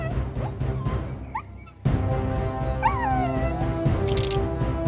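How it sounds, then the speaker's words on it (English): A cartoon dog barks and yips repeatedly, with whimpering, squeaky high cries over a bright music bed, fairly loud and close throughout. "Suddenly, the kids heard Buddy's barking and realized that he was on the farm."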